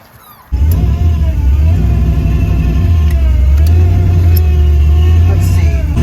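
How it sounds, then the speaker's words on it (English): A Plymouth Duster starts up after a brief quiet moment, then drives with a loud, steady engine drone and slight revving, close and constant through the rest. "so we're gonna take a ride in the Duster."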